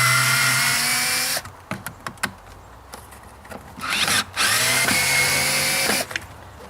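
A power drill backs screws out of a concrete pathway form, with a long whirring spin, a few short trigger bursts and knocks, then another sustained whine close to the microphone.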